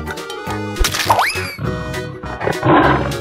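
A cartoon tiger roar bursts out amid playful boings and squishy effects, loud and short in a busy mix of comic sounds.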